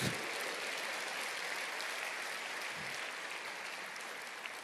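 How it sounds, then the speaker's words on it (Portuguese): A congregation applauds during a church service, a faint, dense wash of clapping that stays steady throughout. "Aplauda o Senhor, diga eu creio."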